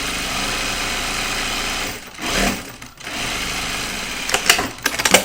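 Close, loud whirring of a sewing machine running a quarter-inch seam on a fabric project bag, a steady buzz that slows and stops briefly, then resumes, ending in a few clicks and taps of handling.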